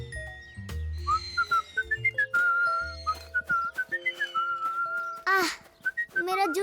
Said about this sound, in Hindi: तुम तीनों तो जूस के डिब्बों के साथ मजेदार सीटी जैसी आवाजें निकालते हो